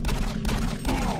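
Enemy shotgun blasts in Doom 3 on Xbox 360 roar in a dense, loud barrage of overlapping booming shots, filling the short moment with no talking.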